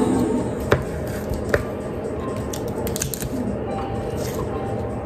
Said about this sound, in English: You literally just cut the stem off.